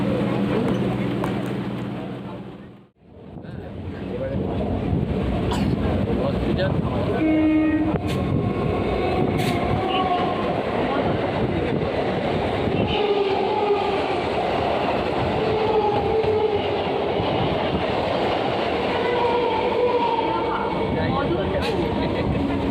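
A local electric train on the Sealdah–Krishnanagar line runs steadily, a loud close rumble and rattle of wheels with a sudden drop to near silence early on, then rolling clatter and squeals as it continues.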